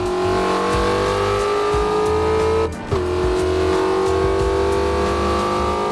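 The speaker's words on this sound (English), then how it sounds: "Slam on the brakes, I still hit the car." A 770-horsepower Mustang GT350 in Assetto Corsa, loud engine roaring and droning steadily, then a sudden hard brake and impact with a short dip in the sound before the engine resumes.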